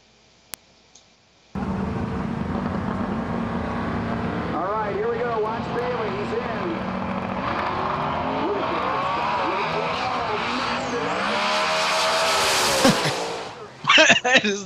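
A 3,000-horsepower twin-turbo Mustang drag car roars loudly and steadily, its engine note climbing through a long pull, then breaks off into sharp bursts near the end, with voices talking underneath.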